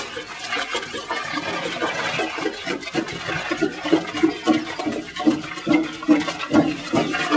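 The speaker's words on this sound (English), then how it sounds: "I'm gonna pour some cold spring water in there." Cold spring water poured into a hot brew pot on a home beer brewing day, a continuous splashing, gurgling pour that grows louder and more turbulent over several seconds, close by.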